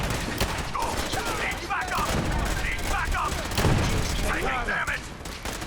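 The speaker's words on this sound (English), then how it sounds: "I think the turrets still shoot me" Automated turrets in Fallout 4 fire continuous rapid bursts of gunfire, dense crackling shots close by with heavier booms mixed in, running throughout without pause.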